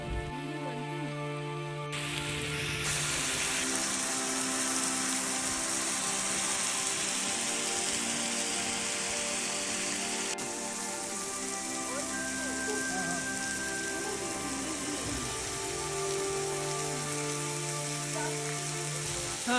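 Light drizzle patters steadily on surfaces outdoors near Manali, a dense, even hiss of fine raindrops that runs continuously, with some background activity but no clear talk.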